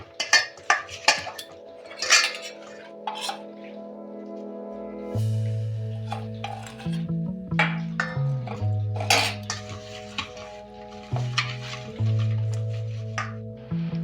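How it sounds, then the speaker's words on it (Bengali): Cauliflower pieces tossed with spices in a metal bowl, giving repeated clattering clinks and scrapes of utensil on metal plus resonant ringing bowl tones, close and lively with no talk. "হালকা হাতে এগুলোকে এরকম করে নিতে হবে যাতে মশলাটা ফুলকপির মধ্যে ভালো করে মিক্স হয়ে যায়"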